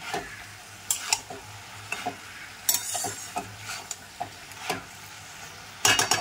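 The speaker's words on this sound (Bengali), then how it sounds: "সেই গোটা কাতলা মাছের তেলটা দিয়ে দিলাম। এবার এইভাবেই ভাজা ভাজা হবে।" Hot catla fish oil sizzles continuously while a spatula scrapes and stirs the pan in irregular strokes, close up and without any talking.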